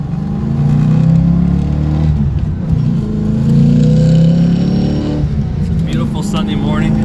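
A 1992 Mustang GT with SVE headers, SVE X-pipe and Mac Pro dumps cruises on a main road, its exhaust a steady low drone that swells and eases while someone talks over it.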